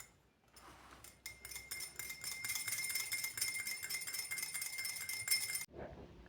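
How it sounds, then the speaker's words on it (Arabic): Ingredients for a homemade natural cheek and lip blush being stirred in a small container: rapid, steady metallic clinking and tapping of a utensil against the vessel for several seconds, then a pause before it stops. "نخلطو مكونات مزيان"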